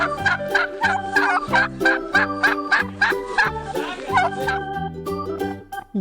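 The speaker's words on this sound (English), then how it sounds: "This is a turkey." A farm turkey gobbles loudly and close by, its rapid warbling calls repeated in bursts throughout with no talking.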